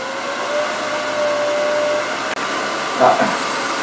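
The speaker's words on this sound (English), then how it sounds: "We want to turn these at a pretty fast RPM. I run mine about 1800." A wood lathe spins at about 1800 RPM while ornaments are turned, giving a steady whirring hum with faint tonal whine throughout and a short break partway through, followed by a brief scraping burst near the end.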